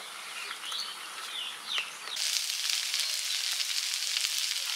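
Neem leaves and eggplant frying in a kadai over a wood-fired clay stove, a steady hiss and crackle of hot oil that grows louder and fuller partway through, with faint bird chirps outdoors.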